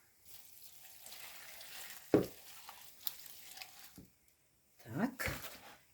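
Boiling marinade is poured over cabbage and sizzles softly, with wet splashing and squishing sounds in two bursts separated by a short quiet pause.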